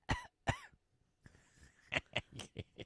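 Two separate close coughs are followed by a quick run of short, throaty coughs.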